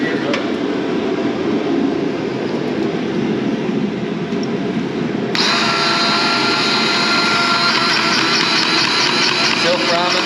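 A battery-powered grease gun pumps grease into the fittings of a Gehl skid steer on a cold, rainy day, giving a loud, continuous motor whine that shifts to a harsher, higher tone halfway through.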